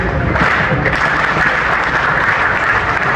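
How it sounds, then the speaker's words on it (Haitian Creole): Sustained applause from a crowd at an outdoor ceremony in Cap-Haïtien honouring Haitian National Police officers and national team players, a dense, steady clapping that fills the whole stretch without a break. "Nous avons un applaudissement pour eux."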